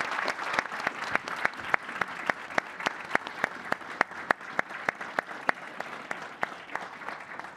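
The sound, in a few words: audience applause for Prime Minister Starmer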